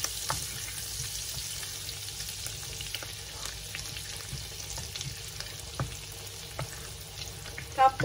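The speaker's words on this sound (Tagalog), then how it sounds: "Igisa natin siya guys. Mix lang natin." Seafood pasta ingredients sauté in a hot pan, giving a steady close sizzle with occasional stirring scrapes and small clinks, with no talking.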